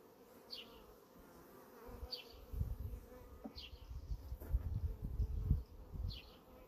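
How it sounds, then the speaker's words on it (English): Honeybees buzz in a low, swelling drone during a hive inspection after another brood box was added, with the hum growing busier and louder over time and faint higher chirps recurring above it. "Get out of the way, Drone. You big lazy bee."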